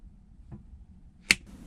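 A single sharp hand clap marks the start of a recorded take, a crisp isolated crack standing out in an otherwise quiet interior with faint low rumble around it.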